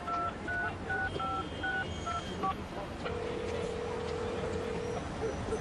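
A cell phone keypad sounds a quick run of about nine short beeping dial tones, then a single sustained tone, all fairly quiet over a low rumbling background.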